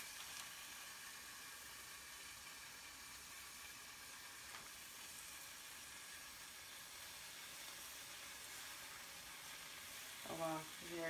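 Thick bacon frying in a pan gives a steady, faint sizzle and hiss throughout, with a brief clatter near the end.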